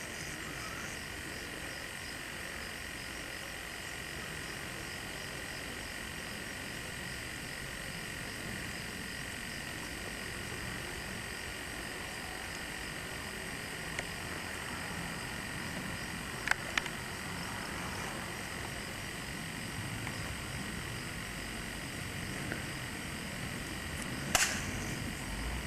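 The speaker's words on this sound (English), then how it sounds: "Yeah, they're little frogs." Little frogs croak at an outdoor swimming hole, a faint steady chorus over a constant insect-like hum, with a few sharp clicks near the end.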